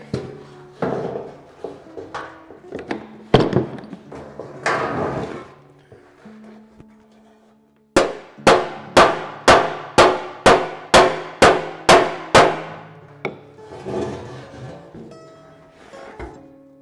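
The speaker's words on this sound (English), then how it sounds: "I pushed it out a little bit with the cross peen and now I'm going to just planish it back down" A cross peen hammer planishes a dented metal panel against a dolly, about ten sharp, ringing metallic strikes in an even rhythm, after scattered lighter taps and knocks.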